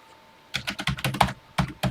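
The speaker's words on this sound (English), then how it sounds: "I'll just keep typing." Keys clack on a TI-99/4A home computer keyboard: after a short quiet pause, a quick irregular burst of about ten close, crisp keystrokes, with no talking.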